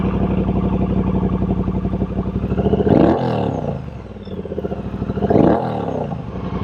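A Triumph Bonneville Bobber motorcycle engine runs loud and steady with a deep pulsing idle, then revs up sharply twice as the bike sets off, each rise swelling and falling back.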